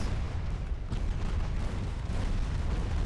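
Naval guns fire in the warship game Ultimate Admiral Dreadnoughts, many small guns blending into a dense, continuous booming rumble with one sharper report standing out early, all at moderate loudness.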